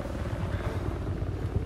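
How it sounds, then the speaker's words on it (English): A helicopter in the video game Battlefield 4 gives a steady low rotor thump, continuous and fairly loud, heard with no voices. "Who's in the helicopter?"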